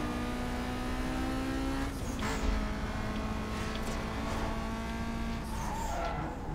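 A V8 Ford Mustang in the video game Need for Speed Most Wanted drones at a steady pitch, with brief tire squeals and skids while the engine note shifts mid-race.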